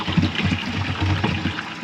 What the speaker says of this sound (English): now we need to do the same with the cold. So switch the tap to cold.